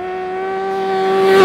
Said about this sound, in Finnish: tämän terävän vaihtoehden kuulee hienosti juuri tällä pyörällä kiihdyttäessä